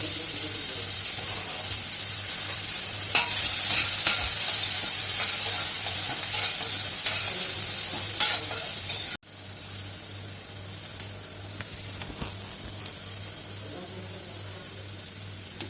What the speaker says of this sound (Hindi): ये अमूल बटर डाला है मैंने। इसमें मैं कांदा डाल रही हूँ।